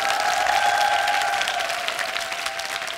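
A studio audience applauds on a Korean television drama special, steady dense clapping that holds strong throughout and eases off slightly toward the end, with a faint tonal hum beneath it.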